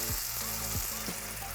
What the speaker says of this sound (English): if you wanna avoid an oil mess from it popping and sizzling